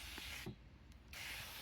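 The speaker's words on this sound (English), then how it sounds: "We're going to just spray all of this in here." A can of foaming cleaner is sprayed into a car's A/C system, giving a close, steady hiss that pauses briefly and then resumes.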